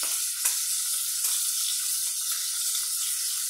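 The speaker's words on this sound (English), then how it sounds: "The sear. I have a nice sear." Pork searing in a hot pan gives a steady, close sizzle with soft hiss and occasional crackle, heard alone without talk.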